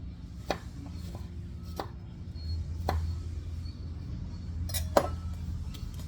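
A knife slices garlic on a cutting board, about six crisp chops at an uneven pace, fairly close and quiet against a low room hum.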